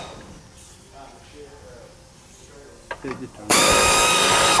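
An angle grinder starts abruptly and whines loudly while cutting nuts on a 1967 Camaro during a garage rebuild, following a stretch of quiet talk and a few clunks.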